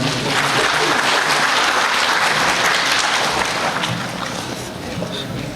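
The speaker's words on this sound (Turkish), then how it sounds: "Kızgın alkışlar lütfen." Dense, steady audience applause fills a formal ceremony hall in Turkey as a foundation leader is invited to the podium, loud and continuous throughout and easing slightly toward the end.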